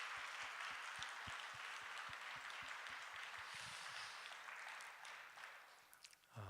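A church congregation at a Wednesday service claps together, a faint, distant, steady patter of many hands that thins out toward the end.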